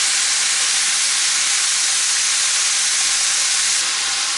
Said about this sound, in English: they don't take long to sear at all